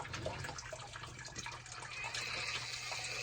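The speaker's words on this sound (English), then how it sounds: "All right, so the coolant's still draining." Engine coolant draining from a car, a soft continuous trickle and splash of liquid, fairly quiet and close.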